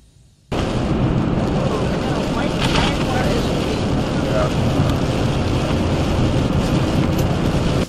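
Heavy rain drums steadily on a moving car, a dense, loud wash of noise that starts abruptly and continues without pause.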